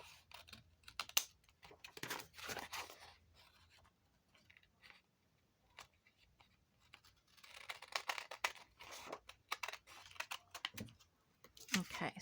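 Scissors snip paper for a handmade tag in quick bursts of crisp, close cuts separated by pauses, with a little faint rustling between them.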